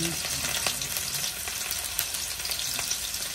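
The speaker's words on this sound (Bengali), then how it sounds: "আমি এখন এটাকে রান্না করব। পেঁয়াজ দিলাম, কাঁচামরিচ দিলাম।" Onions and green chilies sizzle and fry in a pan, a loud, continuous crackling hiss close by, with a few sharp clicks of stirring scattered through.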